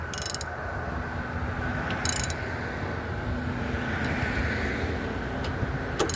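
A modified 1/2 inch ratchet clicks in short bursts of rapid pawl clatter while working on a 2010 Chevrolet Aveo, with a steady background hum under the ticking.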